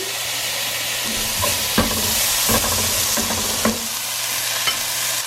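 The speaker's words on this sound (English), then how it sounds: "I am gonna go ahead and put the curry leaf and the pepper in" Curry leaves and pepper sizzle with golden onion in hot oil for a Kerala-style chicken curry, a steady loud frying hiss with a few sharp spatter pops and occasional stirring scrapes.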